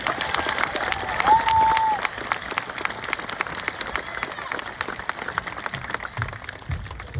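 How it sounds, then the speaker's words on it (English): Graduation crowd at a 2022 high school ceremony applauding and cheering for the teachers, lively clapping with scattered whoops and a brief whistle, fairly loud and continuous throughout. "request a big round of applause for the amazing teachers here at BB Schools"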